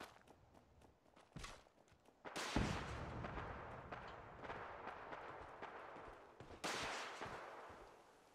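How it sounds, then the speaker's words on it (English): In Fallout 4, rockets and gunfire erupt in three loud, booming bursts that decay slowly, with quieter footsteps and rustling moving between them. "Okay, so I hear rockets"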